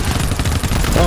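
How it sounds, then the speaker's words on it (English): An automated turret in the video game GTFO lets off a rapid, dense burst of gunfire, loud and continuous for about a second, with game noise mixed in. "You stood in front of a turret, and now you're shooting me."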